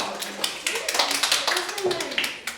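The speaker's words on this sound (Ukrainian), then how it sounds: "аплодисменти ваші команді" Children in a logic class applaud their team, a brief patter of light, uneven claps over a couple of seconds, with voices heard through it.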